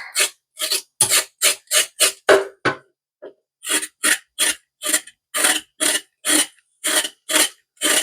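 Rhythmic scraping strokes of food being cleaned during Sunday dinner cooking, about fifteen short rasping passes in two bursts separated by a brief pause, close and fairly loud with no talking.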